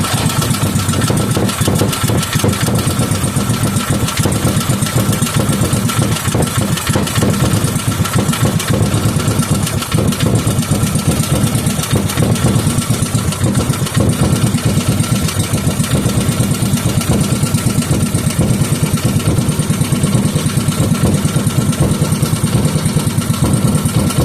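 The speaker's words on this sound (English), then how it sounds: "I got the idle set too low." Small 5hp Briggs and Stratton engine idling loud and close, a steady rapid chugging that runs unbroken for the whole stretch with slight unevenness from an idle set too low, no talking.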